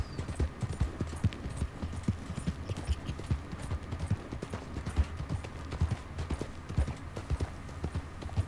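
Horse hooves clip-clop steadily in Red Dead Redemption 2, a continuous rhythmic trot of close, moderately loud hoofbeats over a low rumbling background, with no talk.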